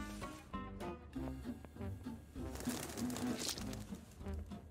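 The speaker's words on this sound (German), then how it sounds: "Ah, das sind Tauben." Pigeons coo repeatedly in the video game Bum Simulator, a soft rolling rhythm of low calls that keeps on under background music and game ambience.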